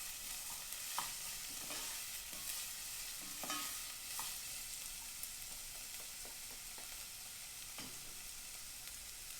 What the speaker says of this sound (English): I'm gonna go ahead and cook these onions down just a little bit